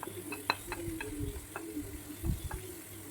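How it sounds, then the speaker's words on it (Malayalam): Cooked clams stirred into masala with curry leaves in a pan for a clam roast, a faint sizzle and frying hiss under scattered ticks and scrapes of a spoon against the pan. "വേവിച്ച് വെച്ചിരിക്കുന്ന കക്ക അതിലേക്ക് ഇട്ട് കൊടുക്കാം"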